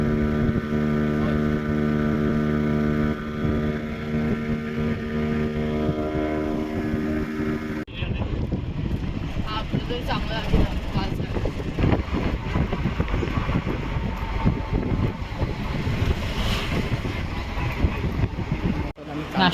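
Motorboat ride on the open sea at Malvan in Sindhudurg, Konkan: a steady droning engine tone gives way after a few seconds to a loud, continuous wash of water and wind noise that runs throughout.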